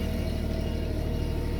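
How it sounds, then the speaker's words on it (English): A BetaGen 10 generator runs with its exhaust fed through a hospital silencer fitted with a quarter-wave tube resonator, giving a steady, continuous low engine drone with an even rumble and no pauses. "The noise you can hear is from the casing of the hospital silencer."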